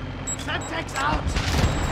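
Gunfire in Modern Warfare 2 Spec Ops, a few quick bursts of shots with booming low rumble, close and loud, while players talk over it.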